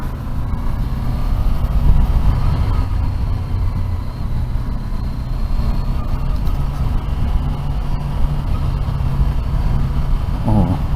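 Honda CBR500R motorcycle being ridden, a steady loud low engine drone with rushing road and wind noise throughout, no voices.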